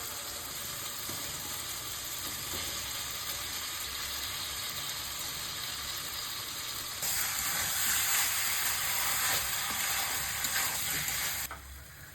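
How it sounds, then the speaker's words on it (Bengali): Masala sizzles hard in a pan as fried pumpkin and potato pieces go in, a dense steady hiss that grows louder midway and then drops off near the end. "এর মধ্যে ভেজে রাখা কুমড়ো আর আলু দিয়ে দেবো"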